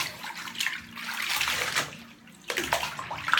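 Water splashing and swishing in a bathtub as laundry is rinsed by hand, a close, fairly quiet wash of sloshing with a short pause before the splashing resumes.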